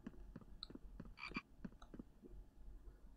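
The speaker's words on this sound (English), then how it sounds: "That's a frog." A frog croaking in a snowy survival video game, a run of about eight short rhythmic croaks evenly spaced and fairly close, heard alone with no talk.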